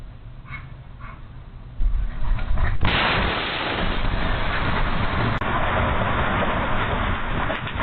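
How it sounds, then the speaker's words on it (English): A sudden powerful explosion booms across the street, followed by a long, loud roaring rumble that lingers for several seconds. "a powerful explosion erupts across the street"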